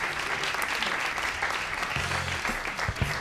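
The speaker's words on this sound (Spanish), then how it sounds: "Gracias, Antonio, por arrancar este aplauso" Studio audience applause at a live comedy podcast taping, a continuous crowd clap with a few brief voiced sounds near the end.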